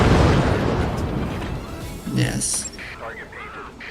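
In the video game Forts, a rumbling burst of manually aimed gunfire and explosions fades out over a couple of seconds, followed by a few fainter pops while a commentator talks.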